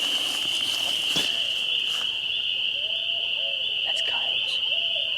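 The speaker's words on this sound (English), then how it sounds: "Those are owls." Owls hoot in the dark woods on the opening day of Kentucky turkey season, low soft calls over a constant shrill insect chorus, with faint brief voices.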